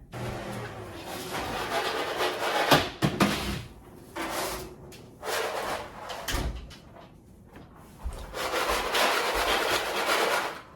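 Dry toasted bread cubes for stuffing are handled and stirred, giving crisp rustling and crunching in uneven bursts with short quiet gaps. The sound is close and moderately loud.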